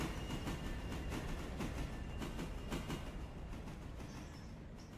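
Train rolling through a forest with rhythmic clickety-clack of wheels over rail joints, a steady rumble at moderate distance and a brief faint squeal near the end, no talking.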